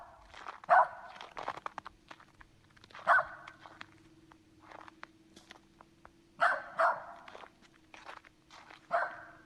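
Dog barks from a video game character, several short bursts in clusters spaced a few seconds apart, over a low steady hum with faint footstep-like ticks between.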